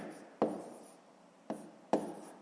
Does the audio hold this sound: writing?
yes